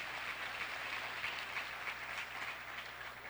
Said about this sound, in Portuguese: Não, obrigado pelas palmas,